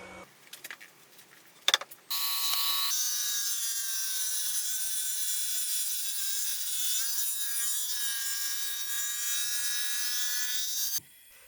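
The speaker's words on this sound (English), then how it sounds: "I can clean up the top of the base with the new fly cutter" Fly cutter on a milling machine driven by a 3 horsepower motor, facing the top of a fly press base: a sustained, loud, high-pitched cutting whine holds steady for several seconds, then stops abruptly after a few brief knocks at the start.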